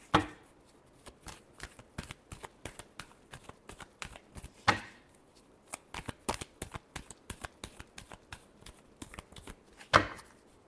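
Tarot cards being shuffled by hand in a quick, irregular patter of soft riffling slaps, close and fairly quiet, with a few sharper snaps along the way.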